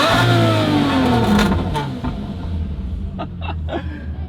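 An Aston Martin revs at a car show, with a loud rising engine roar that peaks and then settles into a rumbling idle with short blips of throttle.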